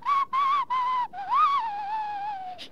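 Whistled sound effect in a French radio serial, a clear close tune of three short level notes followed by a rising then slowly falling sustained whistle, heard alone.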